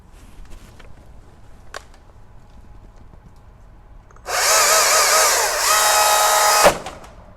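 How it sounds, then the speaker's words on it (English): A STIHL MSA 220 battery chainsaw suddenly revs up loud and close, cutting into protective chainsaw trousers for about two seconds before stopping abruptly; faint background noise before it. "He would like to see what happens if we saw into his pants using the MSA 220 chainsaw"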